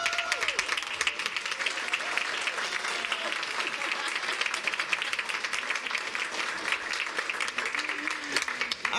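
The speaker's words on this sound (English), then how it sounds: "Let's give them a round of applause." Audience applause at a school board meeting: dense, sustained clapping from a room full of people, steady and moderately close for about nine seconds, with a voice speaking briefly over it.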